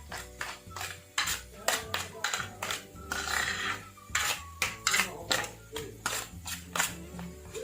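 A spoon stirring a soybean and egg mixture in a metal pan clatters in quick, uneven scrapes and taps, close and fairly loud, with a faint tonal hum underneath and no talk.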